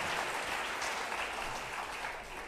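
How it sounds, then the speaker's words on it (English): An audience at a choir concert in Sri Lanka cheers and applauds as a dense, continuous wash of clapping that stays loud throughout and fades a little at the end. "Can we give him a huge cheer, everybody?"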